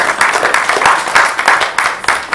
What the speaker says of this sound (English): we'll roll ahead and give you a round of applause